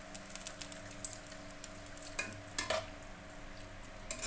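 A spoon scrapes and stirs a potato chilli mixture in a pan after a splash of water is added, with quiet scattered clicks and taps over a soft sizzle and no talk.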